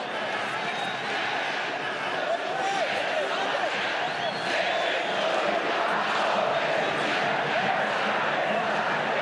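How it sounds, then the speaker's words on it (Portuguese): Figueirense football fans at a Recopa Catarinense 2022 title celebration sing and chant together in the stands, a steady, dense crowd roar that holds for several seconds with a few voices standing out. "É o canto da torcida que vai embalando esse título para o Figueirense."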